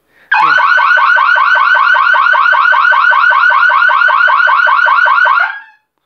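Smart home security alarm sounding after activation: a loud, continuous rapid pulsing electronic siren that holds steady for about five seconds, then cuts off.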